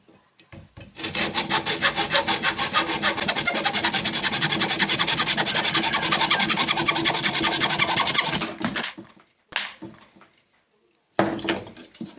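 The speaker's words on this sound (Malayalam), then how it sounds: "നല്ല ആക്സോ ബ്ലേഡ് ഉപയോഗിച്ചിട്ട് കട്ട് ചെയ്യാം." A hacksaw blade cuts through bamboo for pen making with rapid, even back-and-forth rasping strokes for about eight seconds, followed by a few short scrapes after a pause; close and loud.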